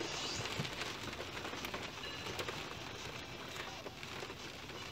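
Steady rain falling outdoors during a Pokémon Go walk, a dense continuous patter of drops on surfaces that stays even and fairly loud throughout with no talking.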